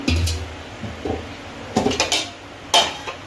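A metal lid comes off a pot of chicken biryani with several sharp clanks and scrapes, close by and bunched into short bursts, with quiet pauses between them.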